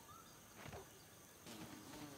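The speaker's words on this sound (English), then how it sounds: "Oh, mosquito." A mosquito buzzes in the survival video game Grounded, a thin faint whine hovering over quiet background ambience with a couple of brief louder swells.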